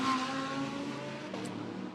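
GT3 race cars circulating in a bunched field behind the safety car on the Macau street circuit, climbing the hill toward Maternity bend; a steady, moderately loud engine drone with a passing car's tone shifting near the end, no talk.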